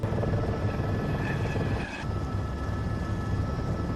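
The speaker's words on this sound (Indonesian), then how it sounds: "Garber dan community pun terbang menggunakan helikopter" A helicopter flies overhead, its steady rotor and engine roar forming a continuous loud drone with no one speaking.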